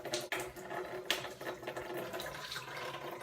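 Water rushing steadily through a Kangen water machine during a cleaning flush, a continuous splashing flow like a running tap with a couple of brief knocks, fairly quiet, no voices.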